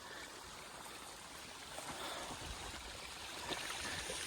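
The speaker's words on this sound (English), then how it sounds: "It's an unnamed waterfall on an unnamed clough." Unnamed waterfall on a small, overgrown moorland clough at Chunal Moor, a steady, soft rush and trickle of water that stays constant and low-level throughout.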